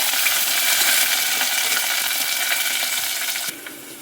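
Onions with garlic and chillies fry in a pan with a loud, dense, continuous sizzle up close, easing slightly just before the end.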